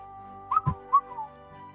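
A human voice imitates a bird with a few short, bright whistled chirps, quick and close, alone without other sound.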